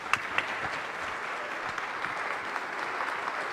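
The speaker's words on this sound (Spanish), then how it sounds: "vamos a recibir con un fuerte aplauso a Agustín Laje" At a lecture in Loja, a crowd applauds to welcome a speaker, fairly quiet and distant-sounding clapping with a few sharper claps early on, continuing steadily through the short stretch.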